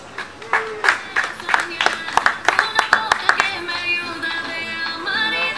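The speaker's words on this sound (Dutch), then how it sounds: "Op een schitterende 3e plaats geef een geweldig applaus." Scattered outdoor clapping from a small crowd at a cyclocross podium ceremony honoring the third place finisher, a series of sharp hand claps with a voice talking over parts of it.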